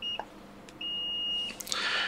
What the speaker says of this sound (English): we will check in resistance mode, which is also we can call beep mode